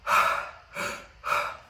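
Three loud, close breaths forced in and out through the mouth during Simha Kriya breathwork, with no nose inhaling, evenly spaced in a steady rhythm with brief pauses between.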